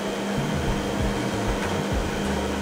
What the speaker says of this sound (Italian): Il rumore che sentite delle ventole è costante